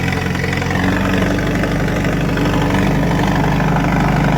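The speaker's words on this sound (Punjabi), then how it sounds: "ਟਰੈਕਟਰ ਸਟਾਰਟ ਕਰਦਾ" A tractor engine idles close by, a steady low rumbling chug that holds evenly throughout.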